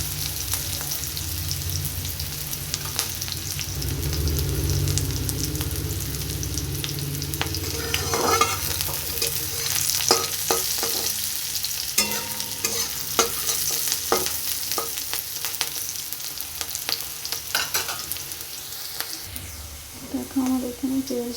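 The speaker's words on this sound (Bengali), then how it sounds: "পেঁয়াজটা ভাজা ভাজা হয়ে গেছে" Onions frying in hot oil in a pan, a steady sizzle broken by repeated scraping and clattering stirs of a spoon over about twenty seconds, with a voice talking intermittently over the cooking.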